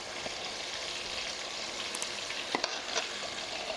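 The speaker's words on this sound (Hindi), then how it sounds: "फ्राई कर लेंगे ताकि टमाटर और इसके साथ सॉफ्ट हो जाए।" Tomatoes fry with ginger and garlic in a pan, giving a quiet, steady sizzle with a few light stirring clicks and scrapes near the end.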